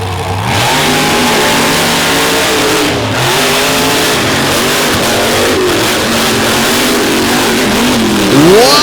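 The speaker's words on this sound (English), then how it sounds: "The Richard Midget horsepower going to work in the mud" Mega truck engine revving hard and continuously as it races through a mud bog at a monster and mega truck show, loud and close with rising and falling pitch and no speech.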